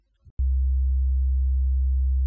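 A brief click, then a deep, pure synthesized dubstep bass tone switches on and holds steady and loud with no variation.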